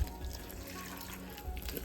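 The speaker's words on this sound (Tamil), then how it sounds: "சுடுதண்ணி கொஞ்சம் ஊற்றி" Hot water poured onto coconut and other chutney ingredients in a bowl, a soft steady liquid trickle that is quiet and continuous, with a few low thumps at the start and end.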